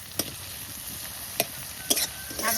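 Garlic sizzles in hot oil beside shrimp in a pan for a greens stir-fry, a soft continuous frying hiss broken by three or four sharp scrapes of a stirring spoon.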